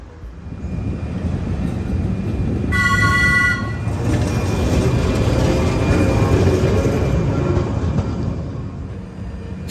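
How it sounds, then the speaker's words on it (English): Historic tram in Trieste, Italy rumbling along with steady low rolling noise, sounding a short bright horn toot partway through, close and loud with no talk. "So this is a historic tram"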